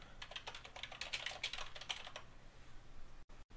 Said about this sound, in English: we can type in Backup and Restore Center from the instant search here